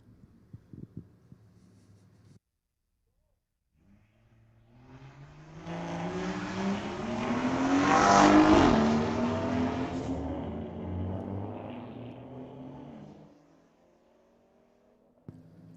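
A street-legal drag racing car launches at Mission Raceway Park. After a quiet pause, a single engine roar swells to a loud peak and then fades away into near silence.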